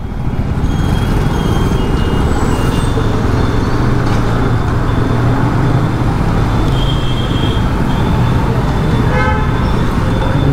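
Dense road traffic roars past during a motorcycle ride: continuous loud engine and wind noise, broken by several short horn toots and beeps from nearby vehicles.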